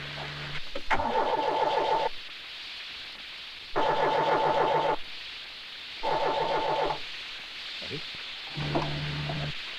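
A broken-down car's engine is cranked again and again, four separate starter bursts of rhythmic churning that never catch, with short quiet gaps between them.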